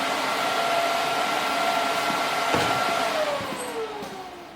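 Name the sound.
grinding a cut metal circle for a chimney cap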